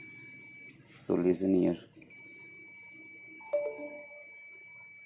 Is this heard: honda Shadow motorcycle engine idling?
no